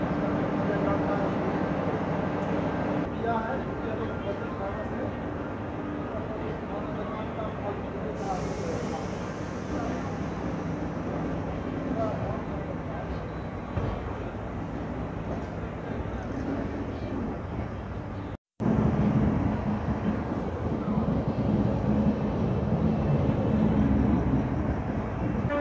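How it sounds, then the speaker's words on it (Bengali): An LHB-coach Amravati Express pulls slowly out of Shalimar station, a low continuous rumble and rolling rail noise held at a steady level, with a short break and then renewed louder rumble near the end. "অমরাবতী এক্সপ্রেস নির্ধারিত সময় থেকে 2 ঘন্টা দেরিতে শালিমার স্টেশনে 1 নম্বর প্ল্যাটফর্ম থেকে ডিপার্ট করছে"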